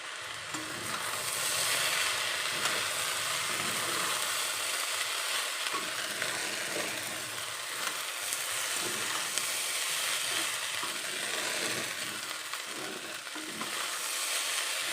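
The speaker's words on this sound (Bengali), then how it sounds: "এবারে দিয়ে দিচ্ছি ঘি" Ghee hisses and crackles in a pan of frying fried rice, a loud, steady sizzle with stirring scrapes that runs unbroken for the whole stretch.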